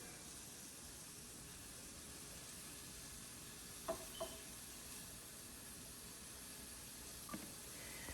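Chicken sausage sizzles steadily in a covered pan, a faint continuous frying hiss with a few soft clicks or taps over it and no voices.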